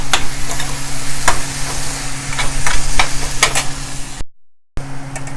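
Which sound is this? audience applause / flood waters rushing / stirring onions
stirring onions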